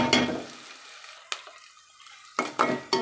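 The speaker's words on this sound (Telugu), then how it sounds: "ఇది ఇలా నిదానంగా ఫ్రై అవనాయండి" Food for puri curry frying slowly in a pan, a soft steady sizzle with spoon scrapes and clinks of the pan, louder stirring bursts at the start and near the end.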